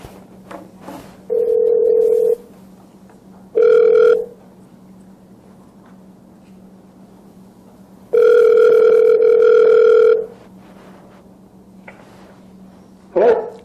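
A telephone ringback tone heard while dialing out: steady droning tones repeat in long bursts with silent gaps between, over a low constant hum, and a few faint clicks and noises in between.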